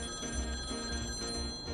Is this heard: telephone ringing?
yes